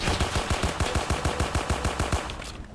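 Rapid machine-gun fire in a Roblox D-Day war game: a fast, evenly spaced burst of about fifteen loud shots that stops abruptly near the end. No one speaks.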